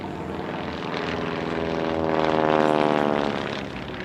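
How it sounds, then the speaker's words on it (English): A Stearman Cadet biplane, an ex-US Navy machine later used for agricultural work, flies at an airshow in Leszno, its propeller engine droning steadily and swelling louder as it passes closest, then easing slightly. "The daytime portion of the airshow continues now with the Stearman Cadet."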